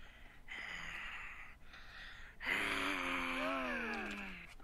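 The Sharptooth dinosaur from the animated film The Land Before Time breathes in slow, heavy huffs, then lets out a drawn-out rasping exhale with a growling, tonal edge, loud and close.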